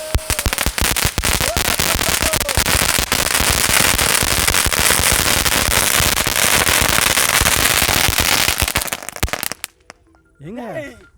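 An Angry Birds firecracker bursts during Diwali fireworks, firing a long, loud, dense barrage of rapid cracks and pops for about nine seconds before it stops abruptly, followed by a brief voice.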